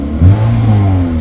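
A Toyota Yaris E automatic car engine catching and settling into a low steady rumble with a brief rise in revs at the start, close and loud, no talking.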